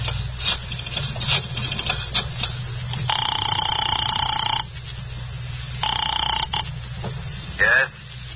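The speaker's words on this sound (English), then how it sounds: "I dialed the Kelsey residence" A telephone rings twice through a handset after a number is dialled, each burst a buzzy, steady electric tone lasting over a second, separated by a pause, over a faint background hiss.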